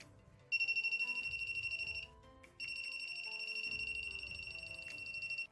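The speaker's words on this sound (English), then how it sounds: "when we hold the voltage tester from the opposite side in our hand, then as we see, is ringing in longer distance from the water bottles" A handheld voltage tester held near water bottles gives a steady, shrill electronic beeping tone that is loud and close, cuts out briefly near the middle, then resumes and continues.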